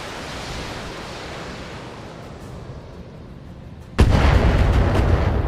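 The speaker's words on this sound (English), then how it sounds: "They have too much long range missiles." Long range missiles firing in a sci-fi battle video game: a steady rushing roar that thins out, then a sudden loud blast at about four seconds followed by dense, sustained rumbling.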